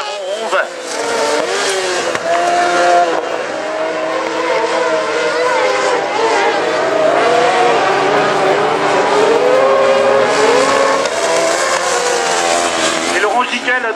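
Racing karts in a Kart Open qualifying heat roar continuously around the track, their high buzzing engines rising and falling in pitch as they rev, loud and sustained, with an announcer's voice heard over them.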